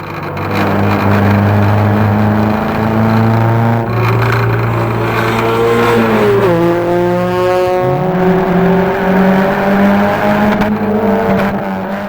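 A Subaru Legacy Wagon on the High Plains Raceway track, downshifted into second gear, roars loud and close. Its engine note climbs and then holds flat against the rev limiter with a steady, strained drone.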